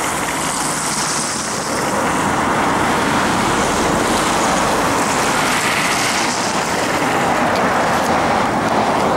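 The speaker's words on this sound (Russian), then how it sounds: "покупают дорогущие автомобили, чтобы потом стоять вот в таких вот пробках." Congested road traffic in a jam gives a steady, loud roar of car engines and tire noise. It runs continuously for the whole stretch, with no voices.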